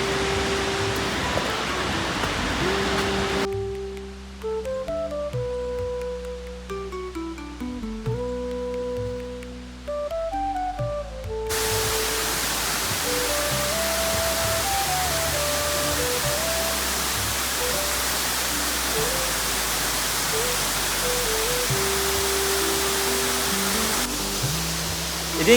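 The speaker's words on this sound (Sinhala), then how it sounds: "ඉතින් මේ තමයි බඹරකන්ද දියැල්ල" Bambarakanda waterfall, the tallest in Sri Lanka, roars as a steady broadband rush of falling water, briefly receding while music plays over it before the full wash returns.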